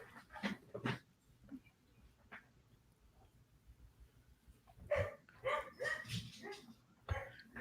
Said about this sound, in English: Dog's having an issue.